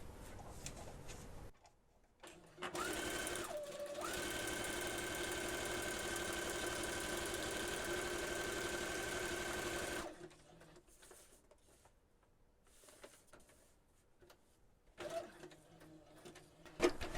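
A sewing machine stitches a pocket: a loud, fast, even mechanical whir and chatter runs for about seven seconds with a brief break early on, then gives way to quiet handling and a few short bursts at the end.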